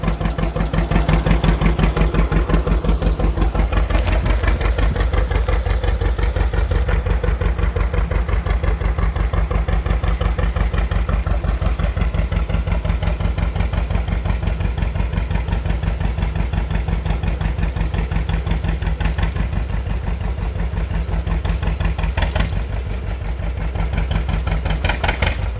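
A John Deere two-cylinder tractor engine runs steadily and loudly throughout, its rapid, even pulsing thump continuous for the whole stretch with no voices over it.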